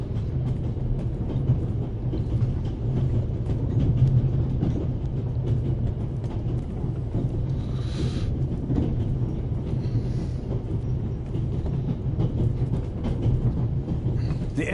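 A burning steam locomotive with its coal tender in the game The Raven Remastered rumbles steadily with a low, continuous rolling drone and faint rhythmic clatter, with occasional hissing bursts.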